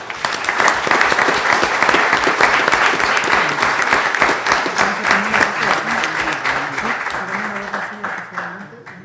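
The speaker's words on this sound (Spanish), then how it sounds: "Pido un aplauso, por favor, para Sonia Mesa Morales" Audience at a genealogy conference honoring a speaker breaks into sustained applause, dense clapping filling the room for about nine seconds before slowly thinning, with a voice faintly talking underneath toward the end.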